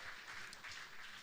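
A church congregation applauding during a worship service, a faint, continuous wash of many hands clapping heard from a distance.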